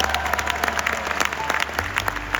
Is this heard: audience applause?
yes